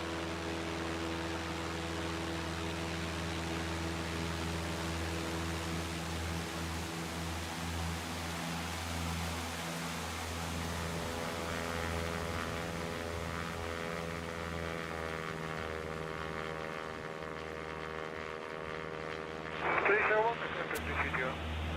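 Steady propeller-engine drone of a light aircraft in the X-Plane 12 flight simulator, a continuous hum with strong harmonics that grows slightly at the end as the plane passes by.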